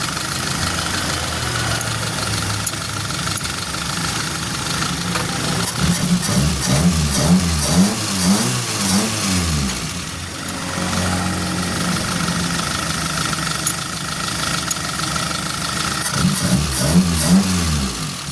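Suzuki Forsa car engine idling with a steady mid-pitched hum, then revved in rising and falling swells twice, loud and close throughout.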